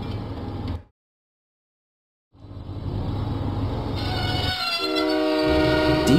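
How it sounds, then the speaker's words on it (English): Train engine in a Thomas and Friends video game pulling into Knapford Station: a loud rumble that cuts to silence for over a second, then resumes and builds as a sustained horn-like tone sounds near the end. "Diesel arrived proudly at Knapford Station"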